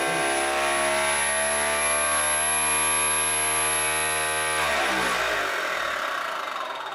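Electric motor on a crankshaft inertia test rig whining loudly and steadily with a strong harmonic drone, then its pitch sagging and wavering as it strains toward 5000 RPM.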